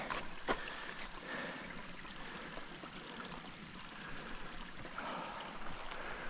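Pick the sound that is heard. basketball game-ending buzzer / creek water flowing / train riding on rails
creek water flowing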